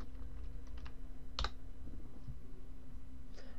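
Keys on a computer keyboard clatter in a short, sparse burst as a deploy command is typed, with one sharper clack near the middle over a low steady background hum.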